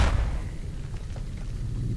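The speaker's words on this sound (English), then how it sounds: "All those explosions." A heavy explosion booms in Fallout New Vegas, the deep blast up front followed by rumbling low-end reverberation and faint distant thuds fading over a couple of seconds.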